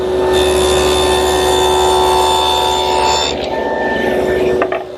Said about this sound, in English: With the dado widened to a 1/2 inch, I've now plowed out a groove in the side pieces to receive the back.